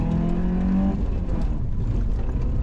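A rallycross car pulls away from the start at an SCCA event. A strong engine tone rises for about a second, then fades into a rumbling, rushing noise as the car moves off.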